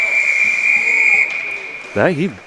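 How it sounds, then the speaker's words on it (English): A referee's whistle at a Sioux City versus Fremont varsity hockey game sounds as one long, steady shrill blast. It ends with a short wavering trill near the close, amid faint rink ambience. "That is a whistle."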